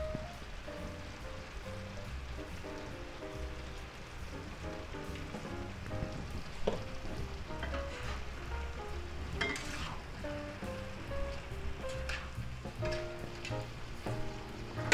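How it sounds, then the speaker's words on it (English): Cabbage, sausage, peppers and onions fry in a pan seasoned with smoked paprika and are stirred, producing a continuous close sizzle with occasional scraping and clinking from the stirring, no voices. "And let's give that a little stir."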